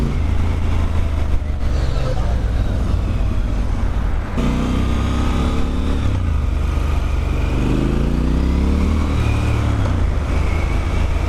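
A Triumph Scrambler 1200 XC motorcycle engine drones steadily while riding, a loud, constant rumble with a couple of rising revs, mixed with wind noise.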